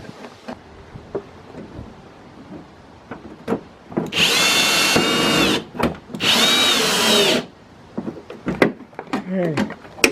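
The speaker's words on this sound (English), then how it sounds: "I'll start out with the ratchet and then use the power driver." Power driver spinning screws into a Ford rear-view camera in two sustained bursts of about a second and a half each, loud and close, with rustling, clicks and handling noises around them.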